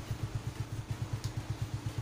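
A Yamaha Mio Sporty motorcycle engine idles nearby with a steady, low, even putter of regular pulses and no talk over it.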